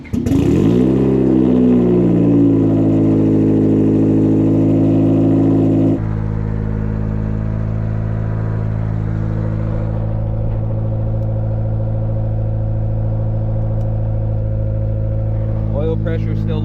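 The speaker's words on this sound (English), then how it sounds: "Let's go ahead and fire it up." A built turbocharged Honda D16 engine in a Civic cranks and fires, revving loudly for several seconds before settling into a steady, rumbling idle. A voice speaks briefly over it.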